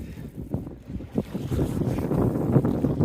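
Gusty wind rumbles against the microphone in uneven bursts on a dam by a reservoir on the Missouri River, mixed with low churning water sounds, growing slightly stronger toward the end.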